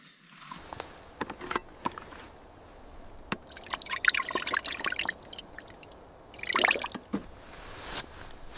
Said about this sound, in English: Coolant. We definitely need coolant. Grab it. We'll top it off right now.